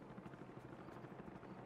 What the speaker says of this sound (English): Helicopter is landing.